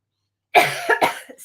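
A woman coughs several times in a quick burst of harsh, close bursts, followed by a short throat-clearing sound, with no talking.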